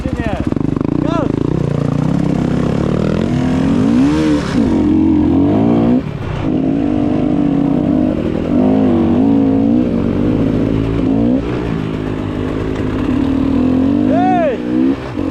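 Motocross motorcycles rev their engines outdoors, pitch rising and falling in repeated bursts over about fifteen seconds, loud and near, with people talking and shouting throughout.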